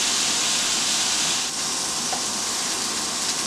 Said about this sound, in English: And I'm going to put in my steak. Make sure you let it sear.